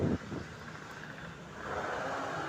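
Strong wind buffets the microphone outdoors near a hospital pharmacy, a steady low rumbling rush that swells slightly toward the end, with no talking.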